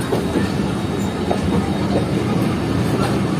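A train rumbles at a railway station on the Lahore to Karachi line, a steady loud roar of wheels and wagons throughout with faint rail clatter and no talk.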